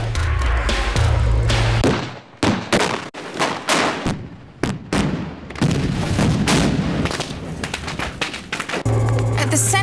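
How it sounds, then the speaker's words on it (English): Explosives packed in a shed go off in a huge fireball blast, a series of loud booming detonations and cracking thuds over nearly ten seconds, with brief gaps between the heaviest bursts. "That is what you call a big bang, isn't it?"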